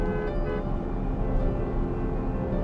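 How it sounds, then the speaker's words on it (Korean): A car horn sounds muffled inside the quiet, well-insulated cabin of a Porsche Panamera Platinum Edition driving in heavy rain, a steady sustained tone over low road and engine rumble. "제가 이렇게 달리다가 빵빵 하잖아요."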